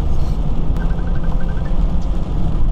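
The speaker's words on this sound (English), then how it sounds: "Getting on a road that is higher speed, and I got those roof racks on the top of my car and they whistle" A car travels at higher road speed with roof racks on top: a heavy, loud rumble of road and wind noise fills the interior, with a thin whistling tone pulsing briefly in the middle.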